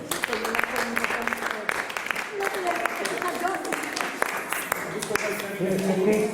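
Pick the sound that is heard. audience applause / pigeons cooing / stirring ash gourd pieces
audience applause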